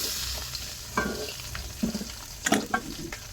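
Shrimp sizzling in a hot pan for a Bangladeshi prawn bhuna, with a continuous frying hiss broken by several sharp stirring scrapes and clinks, close and fairly loud.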